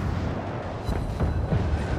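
Ship cannons fire in the naval battle game World of Warships, a few dull, muffled booms thudding over a constant low rumble of battle noise.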